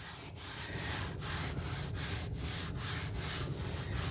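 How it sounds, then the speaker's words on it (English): An unscented baby wipe rubs across a car's center console in a Tesla Model Y or Model 3, a soft and steady scrubbing with rhythmic strokes about twice a second, close and fairly quiet, with no talk. "just gonna wipe it down with a baby wipe"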